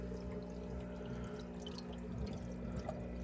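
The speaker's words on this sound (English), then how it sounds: "plenty of drips" Water trickling and dripping from an aquarium spray bar on a modified Matten sponge filter, a soft, steady splashing patter close by with a faint mechanical hum underneath.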